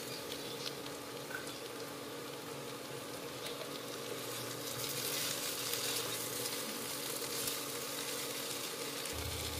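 Potato and pumpkin curry sizzles and fries steadily in a pan, a continuous crackling hiss with occasional scraping stirs and a low rumble near the end, no voices.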